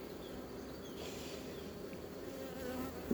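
Dense, steady buzzing of honey bees swarming over an open warm-built hive colony during a spring inspection, a continuous close drone with a brief sharper buzz near the end.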